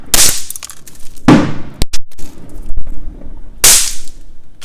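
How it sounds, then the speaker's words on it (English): Snap pop darts hitting a hard floor and bursting, a few sharp, loud cracks spaced apart over several seconds, each a sudden close pop with a quick decay. "Like you can see when I throw on the ground, it makes a little pop."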